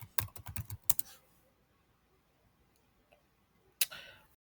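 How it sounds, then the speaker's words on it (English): A burst of rapid keystrokes on a computer keyboard, a password being entered, clicking in quick uneven taps for about a second, then a quiet pause and one or two final key presses near the end. "let me go ahead and type in Mayfield"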